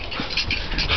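A dog pants rapidly and close up while tugging on a rope toy, several quick breathy huffs in a short burst.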